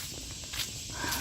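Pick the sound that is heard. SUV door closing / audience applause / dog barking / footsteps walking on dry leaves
footsteps walking on dry leaves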